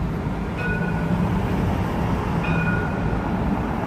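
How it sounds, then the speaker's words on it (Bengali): A Dubai tram passes nearby in the Dubai Marina area, a steady low rolling rumble with faint high wheel squeals near the start and again midway, no talking. "এই দেখেন এটা হচ্ছে দুবাই ট্রাম"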